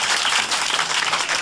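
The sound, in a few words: studio audience applause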